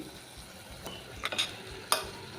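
Papaya goes into a simmering prawn curry in a pan, a steady soft sizzle with a few sharp clinks and stirring scrapes close by.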